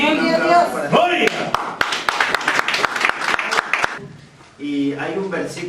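A short burst of clapping rings out in a church service for a woman named Gloria, a run of sharp distinct claps over about two seconds between stretches of a speaking voice.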